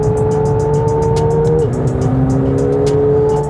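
McLaren 720S under hard acceleration: a steady, loud engine drone climbs in pitch, dips at a quick gearshift, then climbs again, with rapid rhythmic hissing pulses riding over the top throughout.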